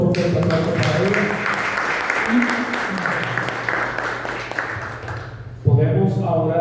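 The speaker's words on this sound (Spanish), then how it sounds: "Un fuerte aplauso, otro fuerte aplauso para ella." A conference audience at a university lecture on creativity applauds for several seconds in a broad, even wash of clapping. A voice speaks over the start, and a speaker resumes talking once the clapping dies down.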